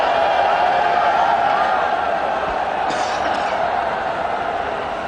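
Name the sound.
cricket stadium crowd cheering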